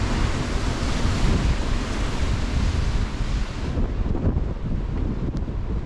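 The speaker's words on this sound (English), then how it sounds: "we're right by the edge of the river here, and it's so choppy because of the wind" Choppy river water slaps and churns beside the bank in Kelso while strong wind roars across the microphone, a loud, steady wash of broadband noise that eases slightly near the end.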